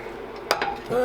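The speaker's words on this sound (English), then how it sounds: "Frying pan, large frying pan onto my little induction hob." A large metal frying pan clanks down onto a small induction hob, a single sharp clink with a brief rattle, in an otherwise quiet kitchen.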